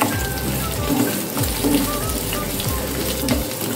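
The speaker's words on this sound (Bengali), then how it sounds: "এগুলোকে হালকা করে ভেজে নেব।" Onion and capsicum fry lightly in a kadai, giving a steady, close crackling sizzle that runs continuously without a break, over a low background hum.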